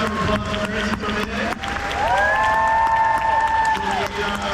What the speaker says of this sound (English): Another round of applause for Marisa Tomei.